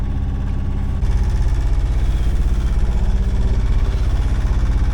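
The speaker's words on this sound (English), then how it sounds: "Worryingly, my engine has just had a wobble. Literally started vibrating all over the place." A sailboat's engine drones and vibrates with a rough, pulsing throb, loud and close and steady, its tone shifting slightly after the first second.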